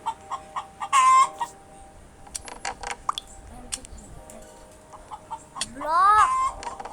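Chickens cluck and squawk in the Roblox video game, several short bursts and rising calls spread across the scene, with game sound effects and talk in between.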